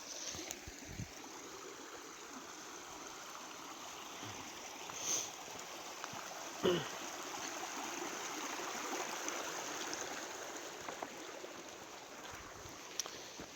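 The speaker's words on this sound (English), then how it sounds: "Ooh, water crossing." A stream rushes steadily at an Appalachian Trail water crossing, a continuous nearby wash of flowing water with a few faint knocks and footsteps along the way.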